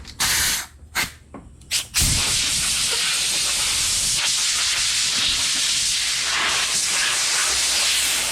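Air compressor blowing air while building a custom resin bartop table: a few short hissing bursts, then a loud, steady rushing hiss that runs on continuously, close up and with no talking.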